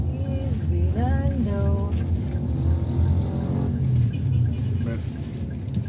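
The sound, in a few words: street traffic in Manila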